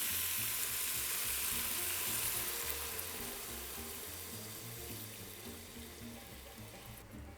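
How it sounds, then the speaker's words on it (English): Ham hock stock pours into a pot of Maltese kawlata with shredded cabbage and sweet potatoes, a steady splashing, sizzling wash of liquid that tapers off gently near the end. "At this point, I'm going to add my stock, which we got from our ham hock."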